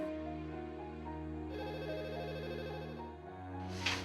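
A telephone rings with repeated electronic bell tones in a steady, sustained pattern, fairly faint, with no talking over it.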